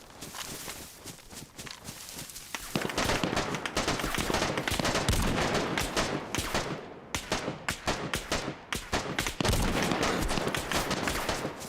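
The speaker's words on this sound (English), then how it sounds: "Is that a bot shooting at me?" Bursts of gunfire in the video game DayZ on Deer Isle, dense rapid cracks and volleys that run almost without a break, loud and close, with no voices over them.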